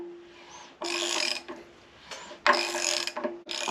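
Ratchet wrench turning the crankshaft of an H22A engine during a timing belt job, giving bursts of rapid clicking in three or four separate strokes with short pauses between them, close and fairly loud.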